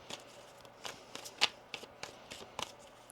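Tarot cards are shuffled by hand in quiet, close, papery riffles and soft slaps that repeat in a loose rhythm, with one sharper snap in the middle.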